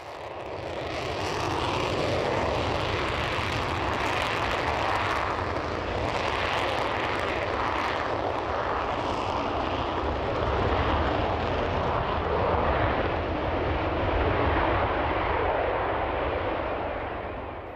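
A Panavia Tornado military jet flies at an air display, its loud, continuous engine roar filling the air and swelling and holding steady throughout.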